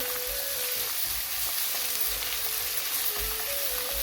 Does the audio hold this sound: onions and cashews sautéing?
yes